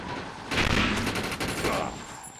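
Rapid bursts of automatic gunfire from the video game Defiance rattle loudly for about two seconds in a dense, crackling volley, with no voices over it.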